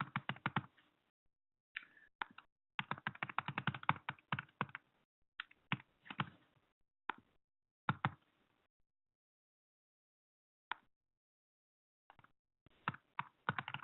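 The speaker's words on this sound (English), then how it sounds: "Sorry about my typing," Someone types on a computer keyboard during a webinar demo in quick, uneven bursts of close, crisp key clicks separated by several silent pauses.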